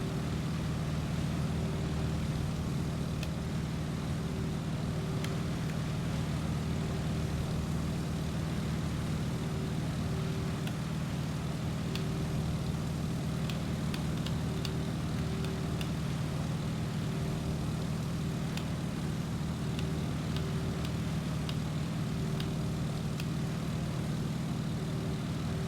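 A propeller aircraft in Microsoft Flight Simulator drones with a constant, loud engine hum and steady tonal whine for the whole stretch, setting up for descent with the prop at high RPM.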